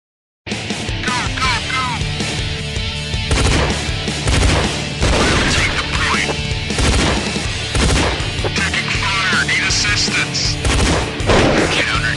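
Dense, continuous gunfire from an online multiplayer shooting video game plays loudly and up close, with rapid bursts, blasts and crashes layered through the whole stretch.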